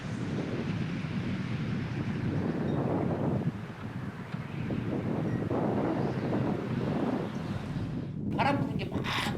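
Strong wind gusts roar across Saemangeum's dusty, unfinished reclaimed land. Loud, continuous buffeting hits the microphone, and a short burst of speech comes near the end.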